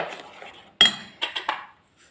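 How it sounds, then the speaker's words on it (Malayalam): A spoon clinks against a bowl while stirring rava batter for unniyappam with a pinch of baking soda, a few sharp metallic taps close by after soft scraping, with no talk. "ബേക്കിംഗ് സോഡ എല്ലായിടത്തേക്കും ആവാൻ നല്ലോണം ഇളക്കി കൊടുക്കുക."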